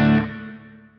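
A single plucked chord through a Flamma FX20 stereo reverb pedal blooms into a wide, shimmering reverb wash and decays smoothly over a second, with no voices.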